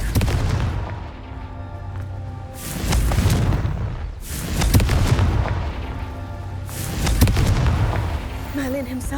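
Repeated blasting-spell explosions from Confringo in the Hogwarts Legacy video game, three or four heavy booming bursts spaced a few seconds apart over a continuous rumbling game soundscape, with no talk.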